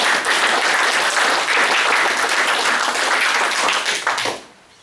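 Applause from an audience at a labor rally, a dense, loud wash of clapping hands lasting several seconds before it quickly fades away.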